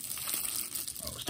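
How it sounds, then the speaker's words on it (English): Bubble wrap packaging handled close up while opening a sports card blaster box, giving a steady crinkling, rustling texture throughout. "And here, a little bit of bubble wrap."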